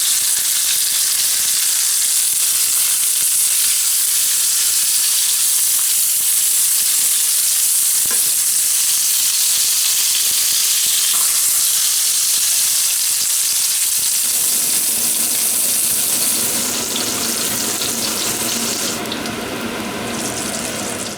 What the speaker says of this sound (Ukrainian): Смажемо її до золотавого кольору.